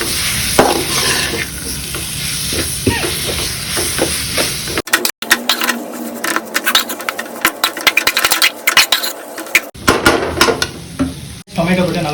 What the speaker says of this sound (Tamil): டொமேட்டோ போட்டு நல்லா மிக்ஸ் பண்ணி கொடுத்துடும்